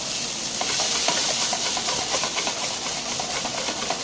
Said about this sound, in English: We're going to deglaze the pan with this mirepoix.